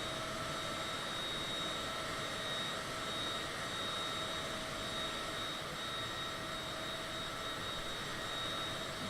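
Twin engines of a Citation private jet in the MSFS 2020 flight simulator, heard from outside the aircraft: a loud, steady, broadband roar with a high whine running unbroken throughout.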